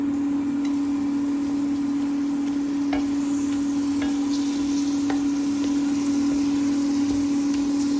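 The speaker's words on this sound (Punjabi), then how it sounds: "ਮੈਂ ਇੱਥੇ ਦੋ ਪੀਸ ਪਾਏ ਨੇ ਕੜਾਈ ਦੇ ਵਿੱਚ ਤੇ ਦੇਖੋ ਇਹਨਾਂ ਨੂੰ ਇਸ ਤਰ੍ਹਾਂ ਫਰਾਈ ਕਰ ਲੈਣਾ ਹੈਗਾ" Papad pieces frying in oil in a kadai give a soft, steady sizzle with scattered small crackles, heard over a constant electrical hum and with no talking.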